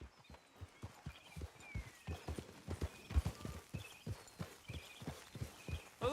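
Horse hooves clip-clop in the Red Dead video game, a steady walking rhythm of close, distinct hoofbeats that continues throughout over faint ambient game sounds.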